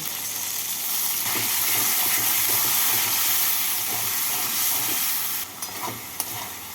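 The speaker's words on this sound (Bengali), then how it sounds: "নুন হলুদ লাল লঙ্কা গুঁড়ো অল্প জল দিয়ে টমেটোর সাথে মশলাগুলোকে ভেজে নেব" Salt, turmeric, red chilli powder and ginger paste frying with tomato and a little water in a pan, a dense continuous sizzle with stirring scrapes, easing off near the end.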